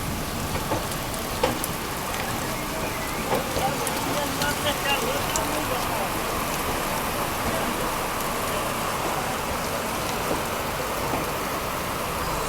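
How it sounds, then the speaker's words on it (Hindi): Steady heavy rain hisses and patters across a railway station platform, filling the scene with dense, even noise and occasional sharper drips, with no clear voices. "बहुत बारिश हो रही है यार"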